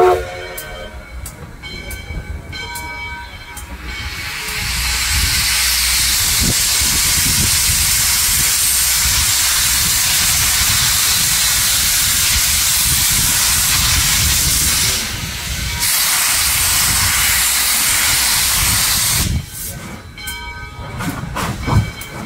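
A steam locomotive pulling private rail cars rolls past on a run-by, loud and close, with a long rushing hiss of steam and rumbling wheels that swell and then fade.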